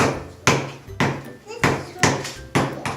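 Hammer blows strike a wooden bird feeder being built, about six sharp knocks in an uneven rhythm, loud and close, with faint talk between the strikes.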